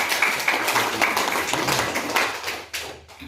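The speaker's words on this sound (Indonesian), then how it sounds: "Mari kita tepuk tangan untuk Bapak." Scattered clapping from an audience at a teachers' association meeting held at a vocational school in Belu, a close, dense patter of hand claps that holds steady and fades near the end.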